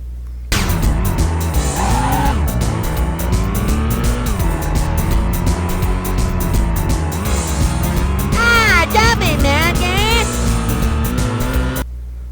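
Kart engines in the Dreamcast South Park Rally video game whine and rise in pitch while tires skid, loud and close, with cartoonish sound effects and a voice talking over the racing.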